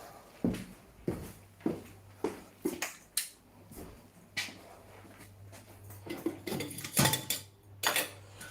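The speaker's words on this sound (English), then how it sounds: "Let's get the kettle on." Metal camping pots and a small camping kettle clatter and clink nearby in a string of sharp knocks, with scraping and a faint hum underneath and no speech.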